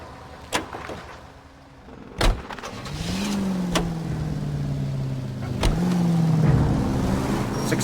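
A car in the L.A. Noire video game: a door slams, then the engine starts and hums steadily as it pulls away, with a few sharp knocks and a rising engine note near the end.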